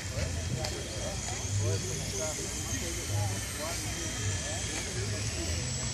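An Embraer Tucano turboprop passes overhead at an air force academy, a soft, steady hum that stays quiet and even throughout, with people talking over it.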